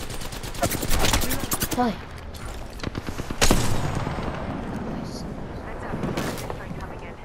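Bursts of automatic gunfire in the battle royale game Apex Legends, rapid crackling volleys with a heavy blast near the middle, mixed with game voice lines and a player briefly talking.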